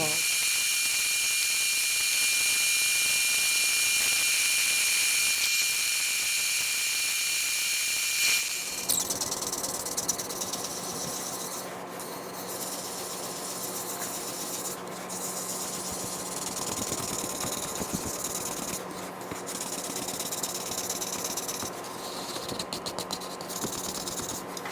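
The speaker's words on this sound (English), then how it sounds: "I'm going to be taking a wire brush and wire brushing this" A wire brush works over a wooden hollow form, a harsh, continuous whirring scrub that begins with a shriller tone, changes pitch about a third of the way in, then keeps going under a steady mechanical drone.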